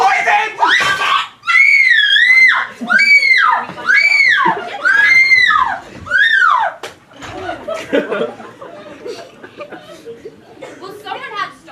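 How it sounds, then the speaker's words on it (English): A woman screams in a stage production of Clue, with five or six loud, shrill, rising-and-falling shrieks in a row, followed by laughter and chatter from others. "Well, someone had to stop her screaming."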